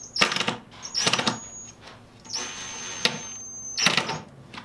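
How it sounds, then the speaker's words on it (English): A hammer drill driving a screw while assembling a bathroom vanity runs in several short bursts, a harsh rattling whine that starts and stops, with brief pauses between each burst; close and loud. "start activating the hammer, and it will drive itself"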